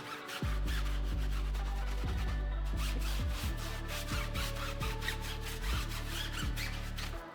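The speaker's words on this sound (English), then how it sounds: "All right, let me scrub it." A car tire treated with tire cleaner is scrubbed with a brush in rapid, close, rhythmic scrubbing strokes, accompanied by a loud low droning hum that repeatedly drops and restarts throughout.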